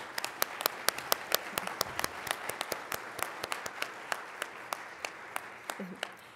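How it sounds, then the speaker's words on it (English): Audience at a panel discussion on principal supervisor standards gives the panelists a round of applause; steady, moderately loud clapping with distinct individual claps throughout, no voices on top. "please join me in giving them a round of applause."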